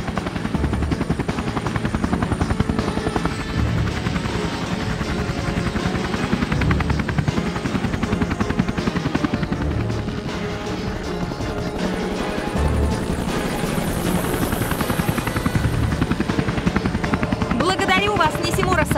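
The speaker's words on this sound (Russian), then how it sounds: "Вертолет Нисимуры ждет тебя снаружи." A helicopter waits outside in the video game Tomb Raider: Legend, its rotor chopping steadily and loudly throughout, with voices speaking over it.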